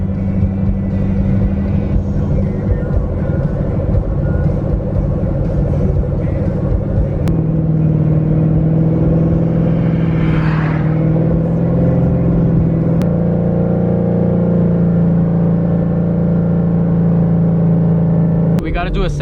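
A Ford Mustang Shelby GT500 with a smaller supercharger pulley and tune accelerates in second gear in a slow climb from 2500 to 5000 rpm, a loud, steady engine drone rising gradually in pitch from inside the car.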